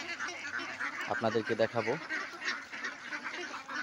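Ducks on a small farm of about 500 birds let out a short burst of nasal quacks in the middle, close by, while someone talks over them.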